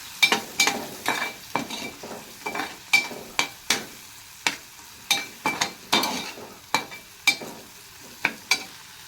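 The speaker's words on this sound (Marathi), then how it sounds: "तो चांगला मिक्स करून घ्यायचा आहे।" Tomato bhaji with masala being stirred in a pan, Malvani style: a regular series of loud spoon scrapes and knocks against the pan, roughly two per second, over a faint sizzle, with no talking.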